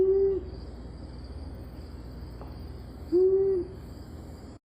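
A long-eared owl gives two low, steady hoots a few seconds apart, fairly close and clear over a faint background of insect hum and night ambience.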